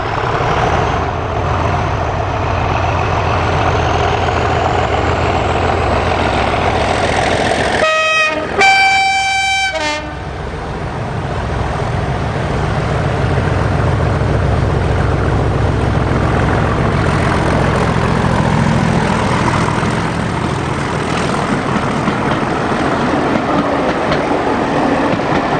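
Class 37 diesel locomotive 37254 departs High Rocks on a heritage railway, its engine thrashing in a loud rumbling drone, with a two-tone horn blast near the middle before the heavy roar carries on under passing wheel noise.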